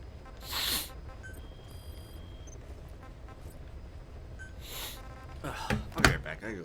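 A person sneezes explosively twice, a short burst near the start and a louder, sharper one toward the end, with quiet room noise and faint tones in between.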